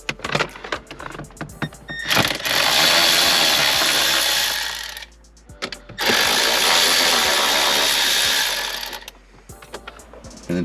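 Ratchet or power driver removing bolts from the dash radio of a Lexus IS300, two long whirring runs of several seconds each, with small clicks and handling noises between and after them.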